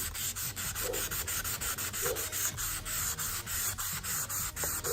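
Rhythmic hand sanding of a car headlight, a rough rubbing stroke repeating steadily about twice a second, close and alone without any talk.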